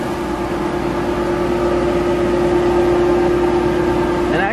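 Dust collector of an ARE Industries shot blaster running, a loud, steady mechanical hum and airy whoosh with a constant drone, close by and unchanging, with no talking.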